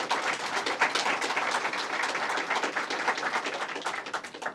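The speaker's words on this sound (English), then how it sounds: "Let's give them a round of applause." Audience applause for a bill's sponsors at a New York governor's State of the State event, a dense, steady wash of many hands clapping at moderate distance for several seconds with no talk over it.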